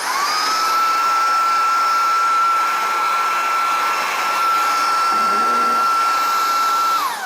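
Shark Vertex cordless stick vacuum running in enhanced carpet mode, a loud, steady high-pitched motor whine held evenly for several seconds before winding down at the end.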